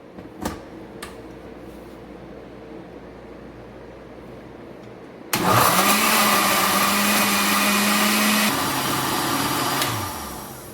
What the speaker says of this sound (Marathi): आता मी हे मिक्सरमध्ये छान त्याची प्युरी करून घेते